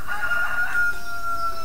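Rooster crowing in the video game Farming Simulator 2013, one sustained cock-a-doodle-doo call, fairly loud and close, with no talk over it.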